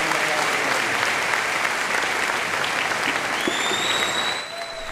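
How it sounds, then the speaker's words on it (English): At a Cincinnati high school ceremony honoring a 93-year-old Navy veteran with a diploma, a crowd claps steadily and warmly, the applause tapering off at the end as a faint tone sounds. "A lot of applause there"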